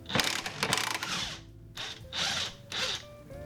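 Ratchet or power tool removing the 19 mm nut of a Subaru Forester H6 rear lateral link, loud whirring bursts up close, the last two shorter and evenly spaced.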